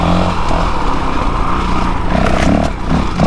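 Honda CRF450RL motorcycle engine pulling on throttle during a trail ride, a steady close rumbling drone with slight surges in revs, no talk.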